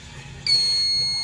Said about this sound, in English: So I'm having a problem with my smoke detector